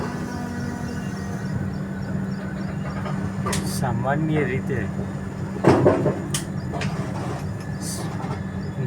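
The Jabalpur–Somnath train runs through rain near Viramgam, a sustained rumbling roar with rain hiss, while someone talks over it and a sharper clatter rises near the end.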